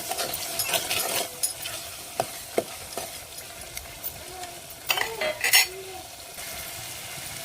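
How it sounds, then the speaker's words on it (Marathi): Egg curry masala with salt is sautéed in oil in a pan. A spoon stirs and scrapes with scattered metallic clinks over a faint, quiet sizzle; no one talks. "परतून घेणार आहेत तेलामध्ये दोन तीन मिनिट"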